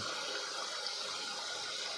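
Tap water from the municipal supply runs steadily into a crayfish pond, a soft continuous hissing gush with no break and no talk.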